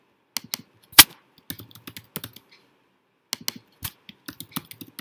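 Someone types a short phrase on a computer keyboard, with quick bursts of close key clicks, one louder tap, and a brief pause between two groups of keystrokes.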